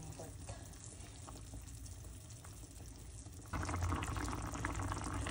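Steady bubbling and sizzling of pork boiling in a pot, continuous and close, growing noticeably louder partway through.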